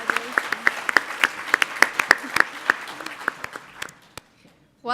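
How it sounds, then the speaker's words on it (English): An audience claps for award honorees at a distinguished alumni awards ceremony, a steady round of applause from a crowd indoors that fades out after about four seconds. "Let's all give these honorees one more big round of applause"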